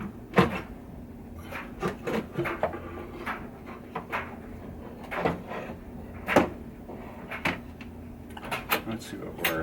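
A wooden panel being worked loose and lifted from a 1984 Williams Space Shuttle pinball machine: scattered knocks, rubs and scrapes, close by, while a person talks throughout.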